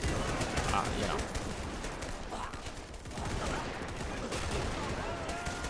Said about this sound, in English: We've got those Danish machine guns spinning away here.